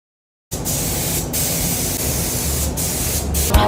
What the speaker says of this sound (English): Stir it around, then we put it through the strainer and then into the paint gun.